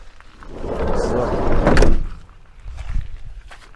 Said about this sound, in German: Die Tür geht von selbst ziemlich gut auf.